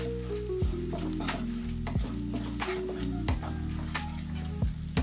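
Chopped green chillies stir-fried in a pan for a methi bhaji, a steady loud sizzle with a few spoon scrapes and knocks against the pan as the mix is turned.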